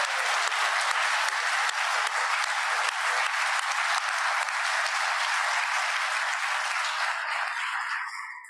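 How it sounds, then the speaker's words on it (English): Applause from an event audience, dense and steady across the room, fading out near the end with no talk over it. "let's just give them a round of applause."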